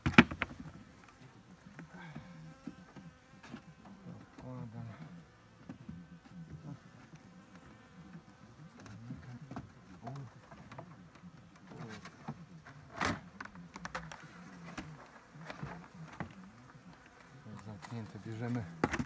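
Honeybees buzzing around an opened hive during a powdered-sugar varroa mite test: a faint, steady swarming hum with occasional soft knocks and handling noises.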